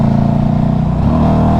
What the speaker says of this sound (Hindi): ये देखो थ्रॉटल लेते ही रुक जा रही है, एकदम से थ्रॉटल लो और रुक जा रही है।